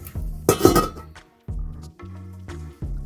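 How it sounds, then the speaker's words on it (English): A metal lid clinks and rattles as it is set onto a pan of eggs cooking on a stove, giving a few ringing clanks and scrapes close by with short pauses between them. "Now I'm going to cover it and cook on low heat until it's properly cooked."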